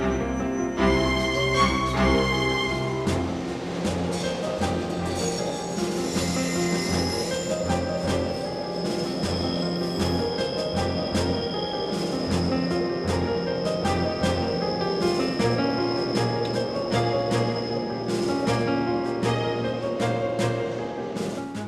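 A Rome Metro Line A train pulls away with a loud, sustained metallic squeal of wheels on rail, layered over a steady rumbling drone that runs unbroken throughout.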